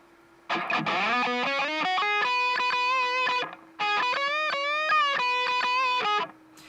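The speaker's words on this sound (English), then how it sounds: "with all these EQs in right now, this is what the whole guitar sounds like" A soloed electric guitar with EQ applied plays distorted, sustained melodic phrases in two loud bursts separated by a short gap, with bends and vibrato ringing clearly and no talk.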